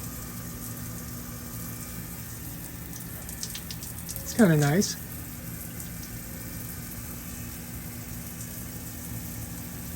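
A Hibbent all-metal 10-inch filtered rainfall shower head sprays a steady, soft hiss of falling water in a bathroom, with someone speaking briefly over it.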